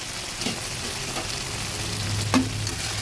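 Broccoli, peas and potatoes frying in a pan give a steady close sizzle, with several brief scraping clinks of a spoon stirring through them.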